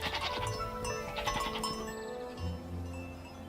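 Goats bleat near a mountain village in snow leopard country, a few wavering calls over a steady outdoor background with no voices.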